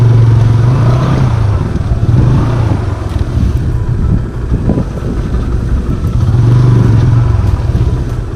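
A motorcycle engine with its silencer removed runs loudly and close, a raw, rough rumble that swells in two revving surges at the start and end, during a bike trip near Gandhi Sagar Dam.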